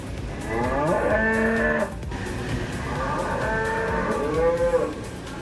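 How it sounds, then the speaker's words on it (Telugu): Toy cows at an indoor kids' play centre give realistic mooing, two long drawn-out moos in succession, loud and close with a steady background hum and no talk. "ఈ బొమ్మలు నిజమైన ఆవుల్లాగే సౌండ్స్ చేస్తున్నాయి"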